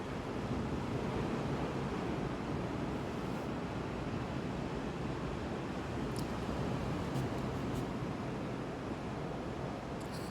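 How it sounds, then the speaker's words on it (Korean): Ocean waves wash steadily onto a beach on a mild winter day, a continuous broadband roar of surf with wind, loud and unbroken throughout with no talking. "좋아요. 바다 소리 좋아요."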